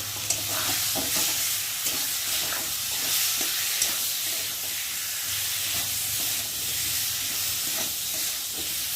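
Ginger, cumin and onion paste with tomato masala being fried in oil for rohu fish curry, a continuous near sizzle with repeated spatula scrapes and stirring knocks, no voices.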